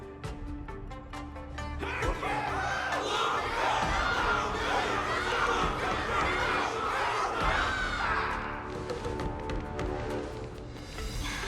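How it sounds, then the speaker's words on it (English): A large crowd in the video game Honkai: Star Rail cheers and roars continuously, loud and dense, with shouting voices rising and falling throughout. "Can't you hear? Everyone's cheering for you, Luca!"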